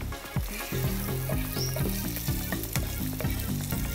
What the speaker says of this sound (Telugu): ఈ పోపు వేగుతోంది.